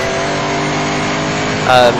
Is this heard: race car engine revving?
yes